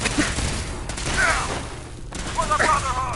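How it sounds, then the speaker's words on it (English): In Fallout 4, dense gunfire fills the scene as a continuous, noisy fusillade rather than distinct shots, with voices calling out over it. "Open fire."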